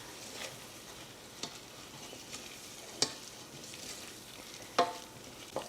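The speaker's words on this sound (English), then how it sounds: "next I'm gonna mix in 1/4 cup of flour" Flour is stirred into hot oil or butter in a pan for a roux, a soft low sizzle underneath with occasional sharp spoon taps and scrapes against the pot.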